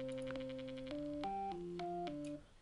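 The default FL Studio 3x OSC synth preset plays a short run of plain, buzzy sustained notes stepping through several pitches, quiet and clean with no voice, ending in a quick fade.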